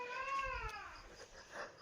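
A cat gives a single drawn-out meow indoors, faint and somewhat distant, followed by quiet room sound.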